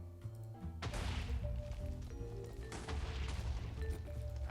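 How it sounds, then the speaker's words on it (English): Explosions going off in a Minecraft world running the Sky Factory 4 modpack, a sudden loud blast followed by rumbling bangs and crashes that keep recurring over a busy game-music background, with no talking. "Just hear explosions in the background."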